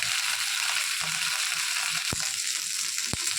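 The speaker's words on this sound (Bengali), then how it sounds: "আমি কিন্তু অল্প করে তেল দিয়ে ঢেঁড়সটা ভেজে নেব" Steady hiss of okra frying in a little oil, with a couple of sharp clicks of a utensil against the pan.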